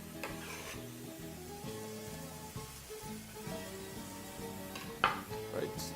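Ingredients are mixed in a pan with soft, steady scraping and stirring under background music, with a brief louder clink near the end and no speech.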